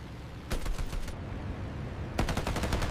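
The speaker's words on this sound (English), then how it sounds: "unleashing the full fury of 8 50 caliber machine guns" Eight .50 caliber machine guns of a P-47 Thunderbolt fighter firing in two loud, rapid bursts, a short burst near the start and another toward the end, over a steady roar with no talking.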